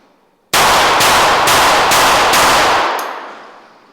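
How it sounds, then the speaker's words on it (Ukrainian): Five rapid pistol shots fired in about two seconds at targets in a sports shooting drill, loud and close, each crack evenly spaced and ringing into a short fading tail with no talk. "треба за 4 секунди встигнути зробити 5 пострілів з пістолета і влучити в усі 5 мішеней"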